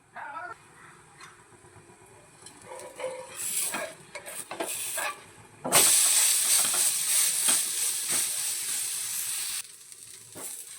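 Chopped curry leaves hit a semolina uttapam on a hot griddle, bursting into a loud hiss after a few scattered clicks, then settling into a steady close sizzle before fading near the end.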